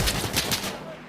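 Automatic gunfire rattles in the video game Arma Reforger: a quick burst of about four or five close, loud shots, then a fading tail.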